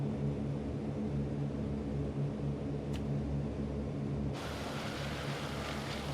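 Engines of a Focke-Wulf 200 Condor in Microsoft Flight Simulator drone steadily with a deep, even hum, then the tone shifts abruptly partway through to a brighter, hissier roar.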